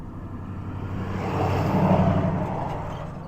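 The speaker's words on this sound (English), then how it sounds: "big truck coming" A big truck passes close on a road, its heavy engine rumble swelling to a loud peak and then fading as it goes by.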